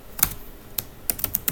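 A few sharp keystrokes on a computer keyboard, sparse and uneven, with small clusters of quick clicks close to the microphone in a quiet room.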